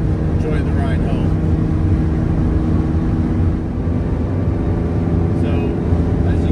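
A 1988 Ferrari Testarossa cruising at about 85 mph on the road, heard from the passenger seat as a steady, loud engine drone and road roar that holds constant throughout.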